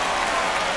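A baseball crowd at a Pittsburgh Pirates versus Boston Red Sox spring training game roars and applauds after a home run, a dense, steady wash of cheering and clapping.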